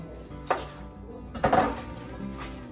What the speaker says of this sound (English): now I'm gonna get the bok choy ready to be cut